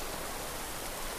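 Soft, steady rain hiss in the video game Skyrim, a brief wash of even noise with no other sounds.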